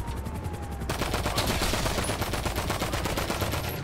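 Rapid automatic gunfire from a machine gun in Grand Theft Auto V, a loud steady stream of shots running nearly four seconds, thickening after the first second into a dense continuous burst.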